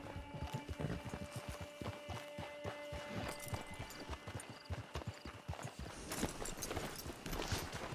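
Horse hooves clip-clop steadily on the ground in Red Dead Redemption 2, a quick, close run of hoof strikes over a soft ambient game backdrop.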